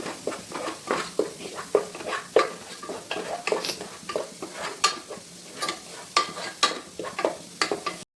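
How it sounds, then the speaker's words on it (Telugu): Ginger garlic paste being stirred into a curry in a pan, repeated scraping strokes of a spoon against the metal at an irregular rhythm over a soft sizzle, close and fairly quiet. "ఒక 1 tablespoon అల్లం వెల్లుల్లి పేస్ట్ వేసుకుందాం. ఇప్పుడు కలుపుకోవాలి"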